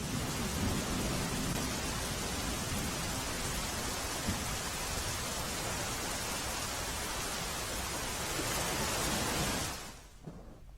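Heavy, steady rain pours down in Jamnagar district, a dense continuous roar of drops beating on surfaces that holds at full strength throughout, then drops away sharply near the end, leaving a quieter hush.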